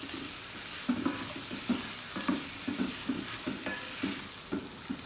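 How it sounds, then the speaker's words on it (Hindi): Onions frying in a pan for masala bhindi, a low continuous sizzle under repeated rhythmic stirring and scraping of a spoon against the pan, close and moderately quiet. "अब तकरीबन हम 10 मिनट के लिए भूनेंगे, प्याज़ों को फ्राई करेंगे"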